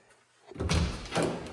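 An under-stairs closet door in a house swinging open, a short muffled thump and rustle after brief quiet, fairly close and faint.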